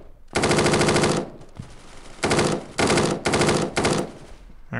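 Five loud bursts of rapid automatic fire from a scoped gun in the shooting game Standoff 2, separated by short gaps, with no talking.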